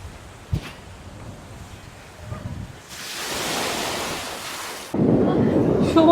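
Sea surf at Cox's Bazar beach, broadband wave rushes swelling and fading across the clip, with a louder, closer wash near the end; wind noise on the microphone, no talk.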